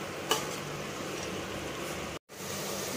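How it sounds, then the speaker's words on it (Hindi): Masala for an Afghan Kabuli chana dal pulao fries in a pan with a quiet, continuous sizzle. A single clink sounds near the start, and there is a brief silent gap late in the clip. "अभी मसाला ही हमारा फ्राई हो रहा है"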